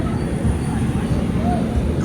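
Passenger train rolling into Rajahmundry station, a loud close low rumble of wheels and carriages with a faint brief squeal, heard from on board.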